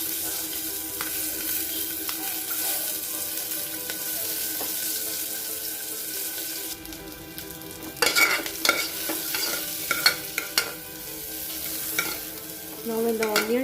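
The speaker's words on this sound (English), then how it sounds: "And except coconut, all the items will just fry" Broken chilies and spices fry in a pot of oil for a one-pot coriander rice, a steady close sizzle running throughout, with a spoon scraping and clattering in sharp bursts during the second half.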